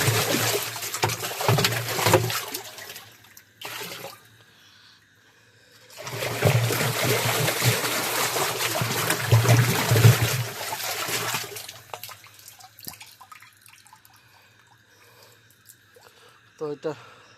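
Water gushing and splashing over a plastic feeder for chicks as it is rinsed out, two long spells of running water separated by quieter pauses, close by.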